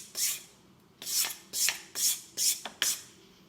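Six rhythmic strokes of a hand file rasping across the steel of an axe bevel while sharpening a secondary edge, each pass a bright scraping burst with short pauses between, close and clear.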